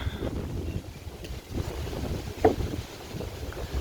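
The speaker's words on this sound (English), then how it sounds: "Sunny day, but very windy." Strong wind buffets the microphone in a low, continuous rumble with gusts, and faint background noise outdoors by the Yarra River; no speech.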